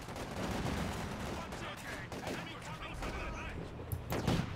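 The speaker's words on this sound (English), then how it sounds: "I think the AT rifle may have just sniped somebody." In the Company of Heroes 2 video game, an anti-tank rifle fires amid dense battle noise: a continuous wash of gunfire and explosions, with a sharper report near the end.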